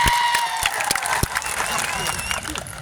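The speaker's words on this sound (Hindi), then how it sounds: "एक बार जोरदार आपके लिए तालियां बजा दी जाए।" A crowd at a World Tribal Day rally in Dungarpur claps and cheers loudly, with sharp individual claps standing out from the dense applause.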